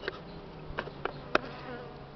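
Faint, quiet background with a few short buzzy bursts of a bee flying close past the camera near a beehive, the last one sharp and near.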